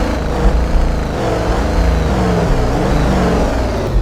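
A tour bus engine in the Tourist Bus Simulator game revs with a deep, throaty rumble that stays loud and close, rising and settling in pitch throughout without any talk over it.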